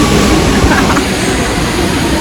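A subway train rumbles loudly and steadily at a station platform, with continuous rail noise and no distinct speech.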